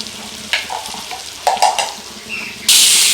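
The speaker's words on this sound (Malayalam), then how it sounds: "ഒന്ന് ചെറുതായിട്ട് ഇളക്കി കൊടുക്കുക." Spiced masala for a biryani is stirred gently in a hot frying pan. Close scraping strokes with soft sizzling build to a sudden loud burst of hissing frying near the end.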